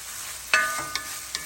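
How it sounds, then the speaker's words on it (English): Onions frying in a pan for a shrimp dish give a steady soft sizzle, broken by a few sharp clicks and scrapes as a utensil stirs them. No one speaks. "So we're going to let those fry until they are translucent and wilted."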